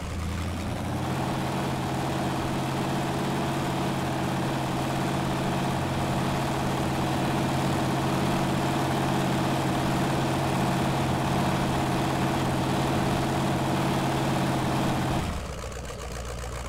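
Ford F-150 pre-runner truck engine idling in the off-road driving game Spin Tires, a steady low rumbling drone that holds evenly for about fifteen seconds and then cuts out abruptly.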